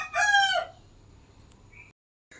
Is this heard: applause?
no